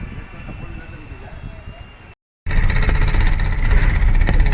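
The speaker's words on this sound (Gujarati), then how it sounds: "યામાહાનું એન્જિન હો, યામાહાનું હાલે યામાહાનું એન્જિન" A Yamaha engine runs loud and close on a road trip from Dwarka towards Okha, with a steady, rumbling drone. A quieter ambient stretch comes first, then a brief silent gap, before the engine sound starts abruptly.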